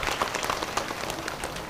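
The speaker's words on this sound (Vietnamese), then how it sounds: "chúng ta cùng chào mừng họ bằng một tràng pháo tay nữa" Applause from the congregation at a church Mass honoring a parish choir: dense, steady clapping from many hands, heard alone and fairly close, with no talking.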